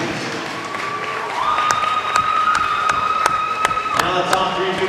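Crowd applause at a swim meet finals awards, a steady wash of clapping that swells partway through, with sharp individual claps and a sustained whistle-like tone over it.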